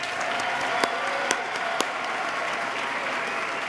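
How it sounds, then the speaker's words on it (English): An audience at the 2014 New York State of the State address applauds in a dense, even wash of clapping with a few sharper claps standing out, steady and loud throughout. "You win the applause meter."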